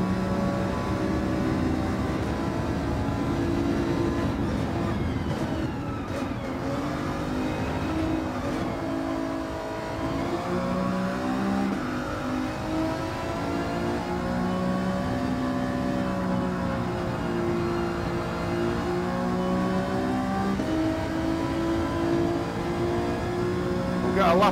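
Race car engines in a Gran Turismo 7 online race drone and rev continuously, with steady layered engine tones rising and falling through gear changes, loud and unbroken throughout.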